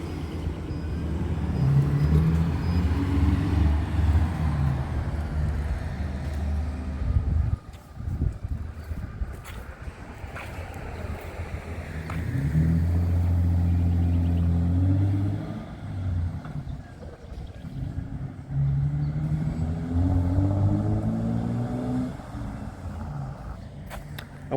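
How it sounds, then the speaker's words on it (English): Petrol Toyota Land Cruiser FZJ75 with a stainless free-flow exhaust and muffler driving through town, a steady low engine drone rising and falling with gear changes and acceleration, fairly subdued throughout. "that's about as quiet as you get with a free flow muffler on a petrol 75 series Land Cruiser"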